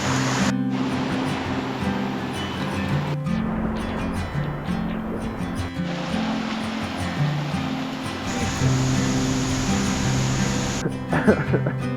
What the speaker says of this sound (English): That's not even marked on the water source, and look how much it's flowing.